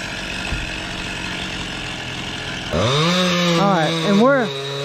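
Chainsaw cutting a tree nearby: a low steady idle, then the engine snarls up to full speed with a couple of sharp throttle blips, while someone talks over it.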